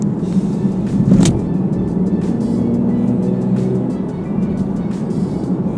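A 2017 Camaro RS with a manual gearbox drives in tour mode, a steady, muted engine drone from inside the cabin with a brief louder swell early on.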